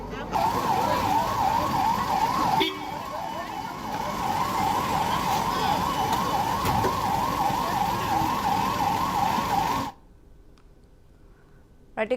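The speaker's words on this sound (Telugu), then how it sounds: "వార్ సైరన్ మోగగానే ఏం చేయాలనే దానిపై సూచనలు ఇచ్చారు" A war siren in a mock drill wails continuously in a rising and falling pattern over traffic noise, then stops abruptly near the end, leaving quieter background sound.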